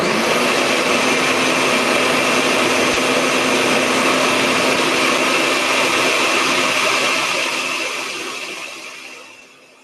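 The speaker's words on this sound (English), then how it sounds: "this is a high-speed blender that, takes all of about 20 seconds" A high-speed blender whirs loudly and steadily while blending a thick smoothie mixture for a spicy cooking dish, a dense motor drone that runs for several seconds and then winds down at the end, with no talking.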